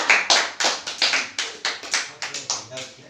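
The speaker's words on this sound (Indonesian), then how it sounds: "Tepuk tangan untuk kelompok pertama." A classroom group claps for the winning team in a short burst of about a dozen sharp, evenly spaced claps, close and fairly loud, with no talking over it.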